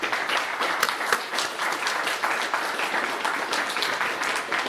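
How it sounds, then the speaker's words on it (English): A panel discussion audience gives a sustained round of applause for the panelists, dense and even clapping from many hands filling the room with no break. "give the wonderful panelists today another round of applause"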